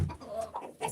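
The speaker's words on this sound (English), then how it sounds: "Hood and the white chicken right here, she's white leghorn and buff Orpington cross" Hens of mixed backyard breeds, including white leghorn and buff Orpington crosses, cluck in short broken bursts close by, with a louder squawk at the end.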